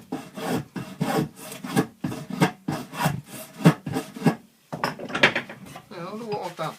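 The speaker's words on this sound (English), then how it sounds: "Right, this is a spoke shave." A sharp spokeshave cuts a curve into wood in repeated rhythmic shaving strokes, close and crisp, with someone talking between and over the strokes.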